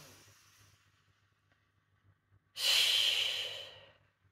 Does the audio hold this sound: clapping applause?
no